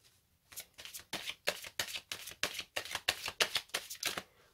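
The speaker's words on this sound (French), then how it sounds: "Allez, on va bien mélanger." Tarot cards are shuffled by hand in a steady run of about a dozen crisp, close riffling bursts, each a quick papery flutter, with no talking.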